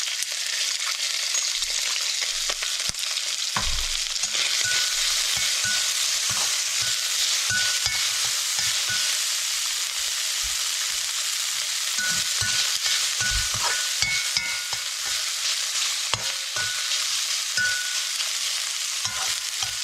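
Shrimp fry in a little oil in a pan, a loud, continuous close-up sizzle that runs throughout with occasional light clinks and scrapes of stirring, and no talking.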